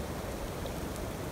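Light rain falls outdoors by the water on an overcast day, a brief, steady, even hiss.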